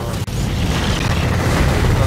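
A grenade goes off in the video game Deep Rock Galactic, a loud dense boom that fills the whole short stretch with a continuous rumbling roar.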